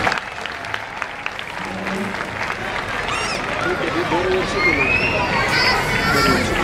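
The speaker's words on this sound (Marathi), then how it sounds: "बाल विभागातील मुलांसाठी एकदा जोरदार टाळ्या होऊन जाईल." Audience at a gymnasium centenary event applauding the children's section, dense sustained clapping from a crowd with children's voices and hubbub mixed in.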